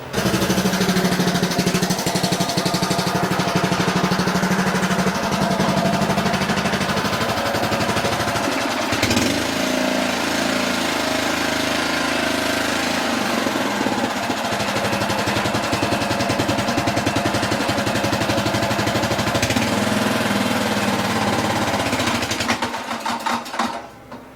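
A Honda lawn mower with low compression runs roughly for about 24 seconds. The engine drone is loud, close and continuous with an uneven, rattling texture, and it cuts out near the end.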